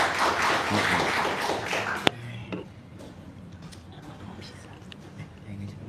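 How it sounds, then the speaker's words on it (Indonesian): An audience at a talk claps and cheers in a dense burst for about two seconds, then the sound drops sharply to a quiet room with scattered faint claps and murmurs. "Mari kita sambut Kang Abu dengan tepuk tangan yang meriah."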